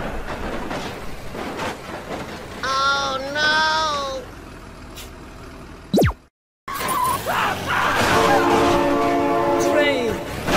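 A Thomas toy train plays a horn with a few wavering electronic toots, then a sharp noise cuts out and a busy whistle-and-rumble sequence follows. Excited voices shout over parts of it.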